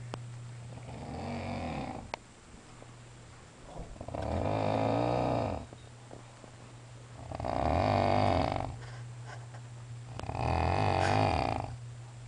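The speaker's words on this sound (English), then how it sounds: "you snore like a bear" A man snores loudly while sleeping at night, four deep, rasping breaths in a slow, regular rhythm, each a couple of seconds long with quiet gaps between.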